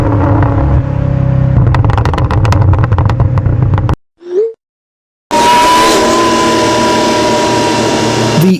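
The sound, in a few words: supercharged Mercedes E55 AMG V8 engine whine and exhaust roar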